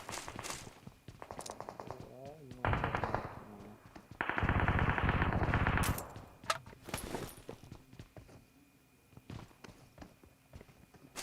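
Automatic gunfire from a shooting video game crackles in rapid bursts, mixed with footsteps and other game effects, while players talk over the action.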